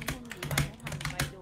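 A computer keyboard is typed on in quick bursts of clicky keystrokes, fairly close, with a pause between clusters of taps.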